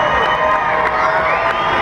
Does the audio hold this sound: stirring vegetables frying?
no